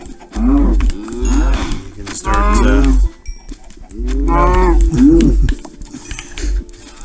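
Cows in the video game Minecraft moo several times in drawn-out, fairly loud calls, with a person talking between and over them.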